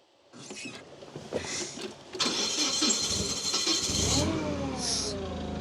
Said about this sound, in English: So let me start the forklift up.